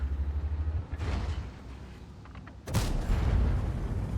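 The FV215b tank's cannon in World of Tanks fires with a loud, close boom near the end, preceded by a lower engine rumble and a fainter shot or impact.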